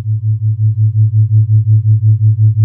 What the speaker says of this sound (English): I've always loved the sound of ring modulator being used at slow rates for tremolo type effects.